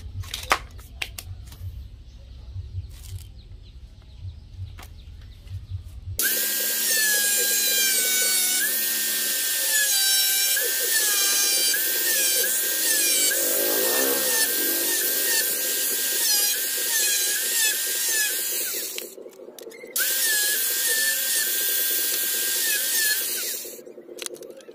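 Power drill boring and cutting wood to make a machete sheath, a loud whining motor running in long stretches with brief pauses, after quieter handling noises at the start.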